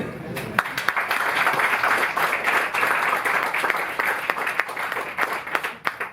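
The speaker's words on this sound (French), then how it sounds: "vous pouvez les regarder et les admirer. Et les applaudir." Audience applause at a Fnac book and music event in Paris, a steady wash of many hands clapping that runs continuously at moderate loudness for several seconds.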